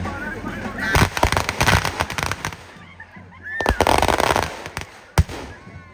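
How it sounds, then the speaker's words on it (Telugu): A burning date palm tree bursts with loud, sharp cracks like firecrackers at a village festival fair, the pops coming in clustered bursts amid crowd noise and nearby talking. "ఇది ఫుల్గా కాలిపోయాక బ్యాండ్ పెట్టెప్పకాయ సౌండ్ లాగా గట్టిగా పేలుతుందంటే"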